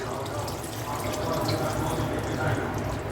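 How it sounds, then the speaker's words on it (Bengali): Raw liquid milk poured into beef cooking in oil for a Bangladeshi beef tehari, a steady continuous watery pouring sound close by, moderately loud and unbroken for a few seconds. "এবার এই পর্যায়ে আমি দিয়ে দিব 150 গ্রাম পরিমাণ লিকুইড দুধ।"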